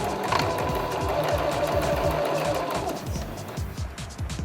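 A sewing machine stitches the center front seam of a fabric tuxedo bib, a steady rapid mechanical chatter running close and continuous, easing slightly near the end.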